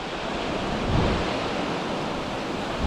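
Waves washing onto the shore of Lake Erie near Erie, Pennsylvania, a steady broad wash of surf with some wind buffeting the microphone, no talking.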